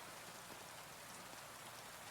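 Steady rain falls in a continuous, even hiss, soft and close, with no voices or other sounds over it.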